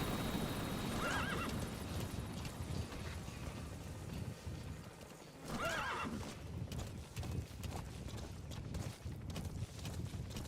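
A horse in Metal Gear Solid V: The Phantom Pain whinnies and snorts close by, with clopping hooves and shuffling movement throughout.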